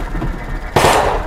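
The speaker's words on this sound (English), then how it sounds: "It's a starter pistol. Watch!" A starter pistol fires once, a sudden loud bang about three quarters of the way through, cutting through a low background murmur.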